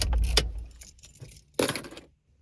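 A bunch of car keys jangles in a short metallic burst as the car is switched off, followed by a second brief clink of keys, with quiet in between and afterwards.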